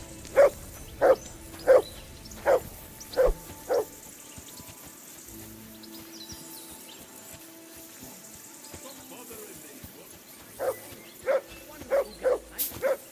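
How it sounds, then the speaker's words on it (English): A dog barks in the video game Kingdom Come: Deliverance II, loud and close, with a run of about six evenly spaced barks, a quiet pause, then another burst of five. "Jesus, Henry, that barking's driving me nuts."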